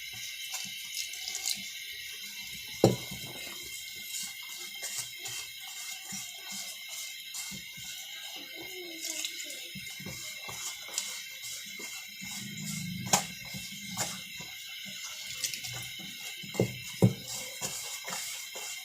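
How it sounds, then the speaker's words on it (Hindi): Water poured little by little into bajra (millet) flour while kneading dough for ladoos, a faint steady trickle with scattered soft splashes and clicks, no voices. "थोड़ा थोड़ा पानी डाल के आटा गूंद लेंगे"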